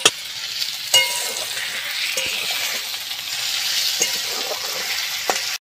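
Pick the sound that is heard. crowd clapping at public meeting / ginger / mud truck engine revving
ginger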